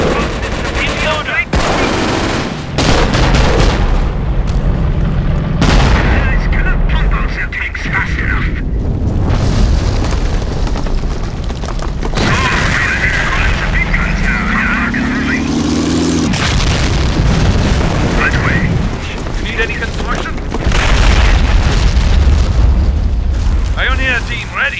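Artillery barrage and gunfire from the Company of Heroes Blitzkrieg mod: repeated loud booming explosions and gun bursts fill the whole stretch of battle, with radio-style unit voices speaking over the din.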